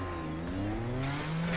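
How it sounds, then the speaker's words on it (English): A race car engine revving at the start line in the mobile racing game Project Cars GO, a steady rising whine with layered engine tones, moderately loud and continuous. "Your engine revving in the blue zone to make a perfect start."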